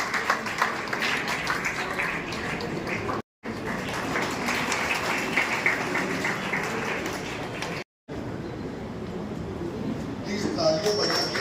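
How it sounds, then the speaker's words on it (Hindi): A crowd claps at a community prize-giving ceremony in Nagpur, dense applause rolling in bursts broken by two brief cuts, with voices speaking throughout. "तालियों बजा के"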